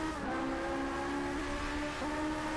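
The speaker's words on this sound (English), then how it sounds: "I feel like they made the cars in this game sound not super realistic" A car engine in the racing game Driveclub drones steadily during drift practice, its tone holding level and then stepping in pitch a few times as if through gear changes.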